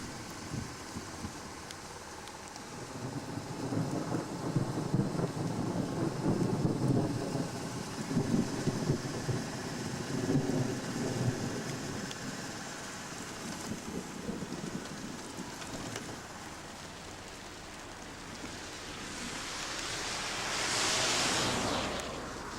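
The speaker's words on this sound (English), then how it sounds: "Look at that rain coming." A gust front storm roars with wind buffeting the microphone and heavy rain rushing outdoors, swelling and easing in broad waves, loud and close, with no talking.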